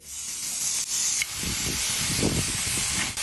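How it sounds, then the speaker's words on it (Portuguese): Bacon sizzles in a frying pan set out in full sun, a steady, close, hissing crackle that runs the whole time, with soft low bumps and handling noises partway through and no one speaking. "realmente está chiando tudo isso na frigideira"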